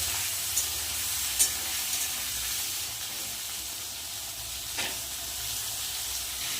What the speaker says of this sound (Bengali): পেঁয়াজ আর আলুটা একটু ভেজে নেব